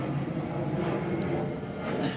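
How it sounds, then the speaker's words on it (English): A fixed-wing airplane flies overhead, its engine drone a loud, steady roar filling the whole stretch without a break. "I love these airplanes"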